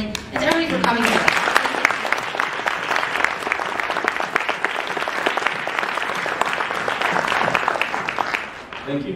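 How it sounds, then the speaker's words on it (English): A university event audience claps loudly and steadily for many seconds, with a voice speaking briefly at the start. "I think we should give not only one more round of applause to Spencer, but also to his family and to everybody for coming today"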